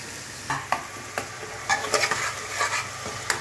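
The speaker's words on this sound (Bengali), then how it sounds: "টমেটোটা দেখলেন তো, তেলে দিয়ে নাড়াচাড়া করছিলাম" Tomatoes being stirred in hot oil in a pan while cooking khichuri, with a soft, low sizzle under repeated scraping and tapping strokes of a spoon, close and fairly quiet.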